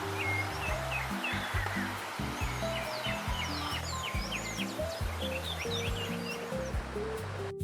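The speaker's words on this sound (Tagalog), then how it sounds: "Ang tanging maririnig nyo rito ay ang agos ng tubig at huni ng mga ibon." Steady rushing stream water at a campsite in Tabaco City fills the scene while many birds chirp and whistle above it, layered calls near and far.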